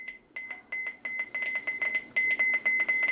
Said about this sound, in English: Listen to how high pitched those are. Those button beeps are.